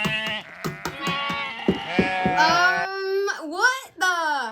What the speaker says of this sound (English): Oh, this is Dolly, our sheep from Midhills Farm.